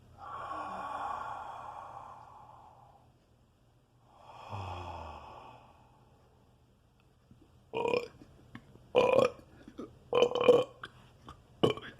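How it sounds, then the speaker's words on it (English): Belching during deep breathing with diaphragm massage: two long, drawn-out breathy belches, then a cluster of short, sharp burps near the end, with no talk. "you can hear the belching"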